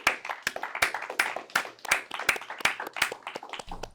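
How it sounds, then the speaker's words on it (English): A small group claps in sharp, uneven bursts of hand strikes for about four seconds, the claps close and loud, with no speech over them. "Let's clap. Come on, guys."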